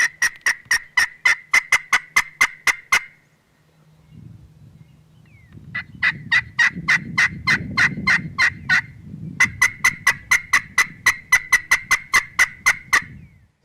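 A wild turkey answers a roost call in spring turkey season, with three bursts of rapid, evenly spaced rattling calls, separated by a pause and a stretch of low rumbling background, fairly close and clear.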